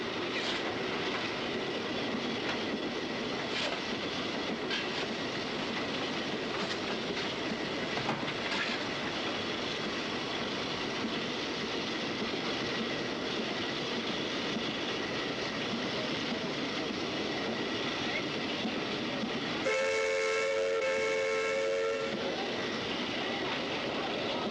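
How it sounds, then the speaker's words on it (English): A 1960s steam locomotive runs at speed with a steady roar and rhythmic rail clatter throughout, then its steam whistle sounds loudly for a few seconds near the end. "These rare colour pictures from the 1960s show something of the drama of steam at speed."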